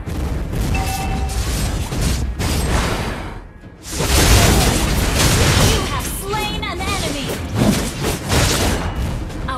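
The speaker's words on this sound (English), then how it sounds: "Our turret has been destroyed." A turret is destroyed in the Mobile Legends video game amid dense battle effects: heavy booms, thuds and whooshes pile up loudly, with a short lull before a strong blast. Game voices sound over the din.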